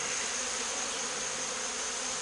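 Honeybees from a rogue hive buzzing in a dense, continuous, loud drone close by, with no voices.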